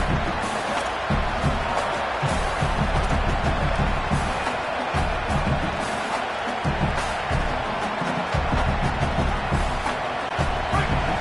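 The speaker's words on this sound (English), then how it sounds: "This crowd trying to make life miserable for this offense." A stadium crowd roars steadily in the video game College Football 27, a dense, loud and continuous wash of cheering noise throughout, with no clear speech.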